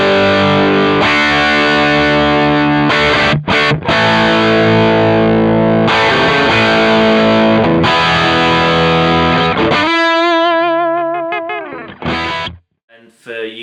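Heavily distorted electric guitar with a hard rock crunch through a Kemper profile of a Marshall Plexi, loud chugging chords and riffs, then sustained ringing notes that cut off abruptly.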